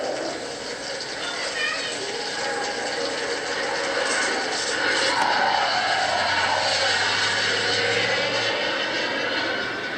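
An older military jet engine howls and roars steadily, loud and close, with a low rumbling tone swelling partway through and no voices over it.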